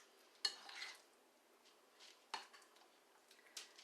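Mozzarella and cream cheese being stirred together in a bowl, heard as a few sharp utensil clacks against the dish with softer scraping between them, close and fairly quiet.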